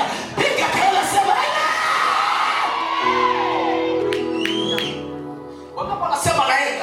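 A church congregation shouting and whooping in response during a sermon, a loud burst of crowd voices that gives way to a brief sustained tone and then more shouts.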